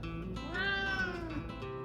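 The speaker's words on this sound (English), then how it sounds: "Meet Scooby, an Oriental Longhair cat who believes he's not just the king of his household" An Oriental Longhair cat lets out a single long, drawn-out meow, close and clear, rising and then falling in pitch.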